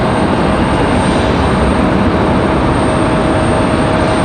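American Airlines flight 1894 jet departing Raleigh Durham airport, a loud continuous engine roar with a thin steady high whine, unbroken and close.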